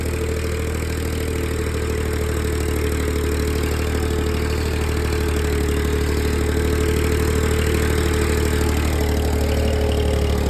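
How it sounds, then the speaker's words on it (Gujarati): Low, constant diesel rumble of a 35 hp 4x2 tractor working a five-tine plough at low RPM, steady and loud up close, with a faint mechanical clatter and no voices. "લો RPM પર પણ ટ્રેક્ટર ચાલે છે"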